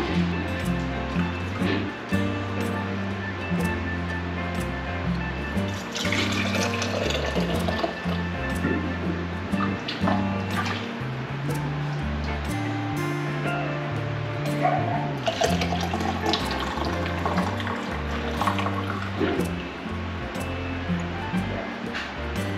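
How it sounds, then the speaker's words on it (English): Homemade chicken bone broth is poured into canning jars in a steady, continuous liquid stream with a sloshing, filling sound that runs throughout at moderate loudness. "So let's go ahead and start filling these jars."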